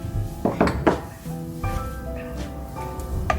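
Minestrone soup being ladled into a bowl, with clinking of a ladle and pot in a few short knocks and scrapes close by, then softer handling sounds.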